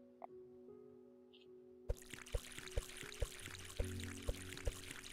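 Crops being watered in the video game Common'hood: a steady pouring splash begins after a short quiet stretch, with regular soft thumps and clicks repeating beneath the flowing water.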